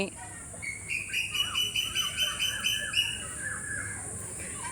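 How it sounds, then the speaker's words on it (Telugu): Birds call in a natural hillside setting at Kailasagiri, Vizag, a run of repeated chirps and squawks at moderate distance, with a faint insect drone underneath. "ఇప్పుడు చూడు పక్షులు."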